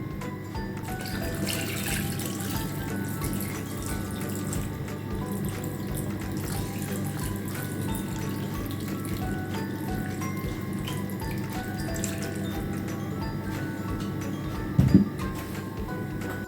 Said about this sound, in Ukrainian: Тепер заливаємо маринадом.